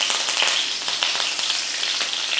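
Hot oil sizzles and crackles loudly and continuously, with bright spattering pops as spices such as cloves, bay leaf and curry leaves hit the pan for tempering.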